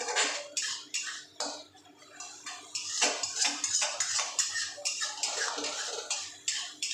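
A spoon stirs mustard paste in a fish curry pan, making repeated close scraping and clattering strokes against the metal in an uneven rhythm, with a brief quieter pause early on.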